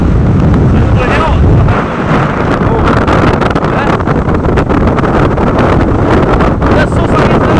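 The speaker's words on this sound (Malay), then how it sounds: "Biasalah saudara, angin kuat kencang." Strong wind at sea roars and buffets the microphone in loud, continuous gusts, with a boat motor droning underneath on rough water near a small harbour in extreme weather.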